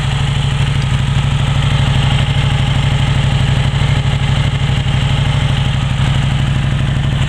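A motorcycle fitted with an aftermarket exhaust idles close by, giving a loud, steady, throbbing rumble with an even pulse and no voices.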